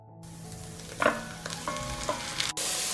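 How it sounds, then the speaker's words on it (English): Five hundred grams of chicken fillet sizzles in a pan with softened vegetables, a quiet steady frying hiss broken by a few louder pops and stirring scrapes. "I add 500 grams of chicken fillet"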